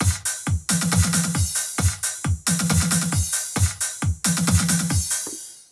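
A Yamaha PSR-SX900 keyboard plays a rhythmic drum style fill in bursts of punchy hits, capped at the end by a crash cymbal that rings out and decays. Loud and up close, with no voices.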